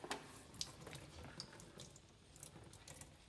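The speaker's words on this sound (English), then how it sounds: "I'm going to try turning it one more time until water stops coming out." Water drains from a Ninja coffee maker during a fix for its five-beep fault, a faint trickle with scattered small drips and splashes close by.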